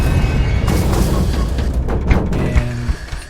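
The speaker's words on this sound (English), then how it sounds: "Up ahead, you hear this explosion." A loud boom sound effect stands in for an explosion, a dense rumbling blast with scattered crashing bursts rolling on for several seconds.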